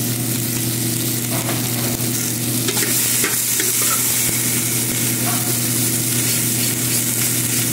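Tomato, onion and garlic sautéing in a pot, a loud, constant sizzle and hiss with scraping stirs and occasional utensil knocks throughout.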